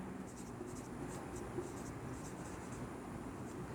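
Steady scratching of writing on a board during a classroom English grammar lesson, faint and continuous against a constant background hiss, with no clear voice.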